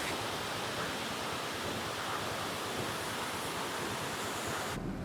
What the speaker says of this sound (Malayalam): ഇത് അടിപൊളി ഒരു വെള്ളച്ചാട്ടമാണ്.